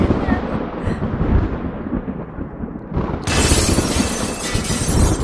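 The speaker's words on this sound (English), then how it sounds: "The whole storm is just under us. Get down! On the floor, just below the windows. Look at the lightning." Thunder from a lightning storm right overhead, a loud sustained rumble that swells into a sharp, crackling burst partway through, close and heavy with no talk.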